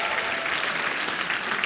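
A comedy club audience claps in a brief, dense burst of steady applause.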